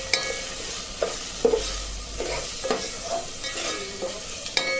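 Garam masala is stirred into a paneer and cashew pulav in a hot pan, giving a close, steady sizzle with repeated scraping spoon strokes and occasional metallic taps.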